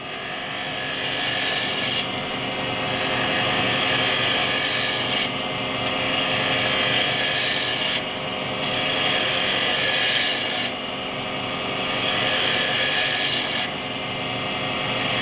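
A gouge chisel cuts coves into spinning wood on a lathe, producing a loud, continuous whirring rasp over the steady hum of the machine, broken by brief lulls as the tool lifts off the wood.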